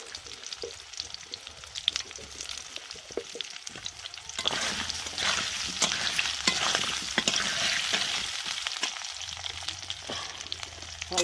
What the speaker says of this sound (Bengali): চার পিস আলু দিয়েছি, সেটা ভেজে নিচ্ছি